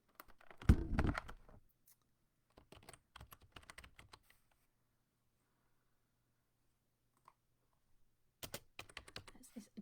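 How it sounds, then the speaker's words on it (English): Typing on a computer keyboard comes in irregular bursts of quick, crisp key clicks, with a louder clatter at the start, then sparse taps, a long quiet gap, and another flurry at the end. "If I can find my keyboard."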